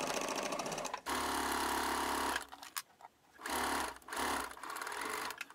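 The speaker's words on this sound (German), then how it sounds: "Jetzt wird hier unten die Naht mit 1 cm Nahtzugabe erstmal geschlossen." Sewing machine stitching the bottom seam of a small fabric pouch with a 1 cm seam allowance, running in steady whirring bursts close by, with brief pauses between runs and no talking.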